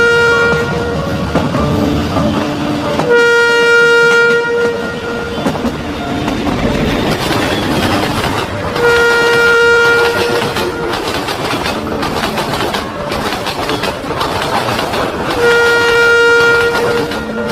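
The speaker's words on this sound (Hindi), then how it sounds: "चूहापुर जाने वाली ट्रेन पनौतीपुर स्टेशन पे आ रही है।" A train rushes through a station without stopping, its wheels clattering steadily while a loud horn blares in repeated long blasts.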